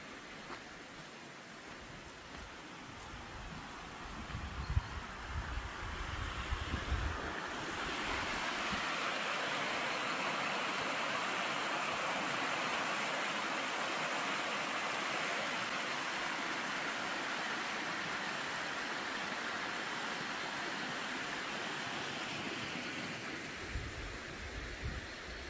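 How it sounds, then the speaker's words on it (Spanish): A countryside river flows steadily in a broad, continuous rushing wash that swells and holds loud and near for most of the stretch, with low rumbling thumps at the start and end. "Sonido del río."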